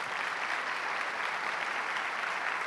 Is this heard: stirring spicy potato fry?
no